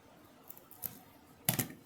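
Scissors snipping through a self-adhesive strip at a craft table, a few quiet, short cuts with the last one the sharpest, in a near-silent room.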